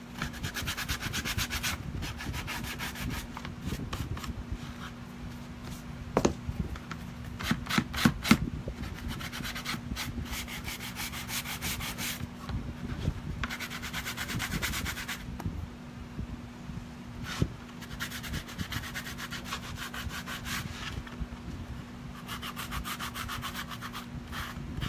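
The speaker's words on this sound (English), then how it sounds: "I'm just gonna try to sand them as much as I can." Sandpaper works the beat-up edges of a wooden sign, producing bursts of steady rhythmic rasping strokes close by, with short pauses between passes and a faint steady hum underneath.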